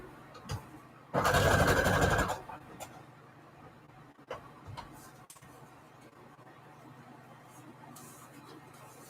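A sewing machine runs in one short loud burst, stitching paper scrap trim for a book, then stops; quiet room noise and small handling taps follow.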